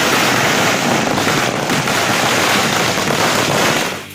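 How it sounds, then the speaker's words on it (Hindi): Fireworks and firecrackers crackle and pop densely without pause at a street celebration in Indore, India, a loud, continuous barrage filling the whole stretch before easing slightly at the end. "जगह जगह आतिशबाजी हो रही है।"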